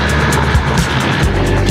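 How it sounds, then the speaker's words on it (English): A dinghy outboard motor that has been giving trouble, run up to speed on the water, a loud steady droning whine close by with no break, rising and falling slightly as the boat passes. "We've been having some trouble with the dinghy motor."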